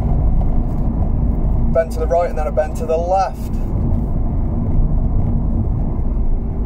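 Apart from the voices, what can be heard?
diesel car engine while driving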